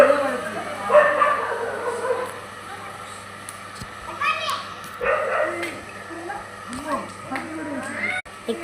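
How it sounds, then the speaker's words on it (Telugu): Two dogs fighting, with repeated barks, yips and whimpers in bursts at moderate distance, while people talk throughout. "ఇక్కడ రెండు కుక్కలు గొడవ పడుతున్నాయంటే"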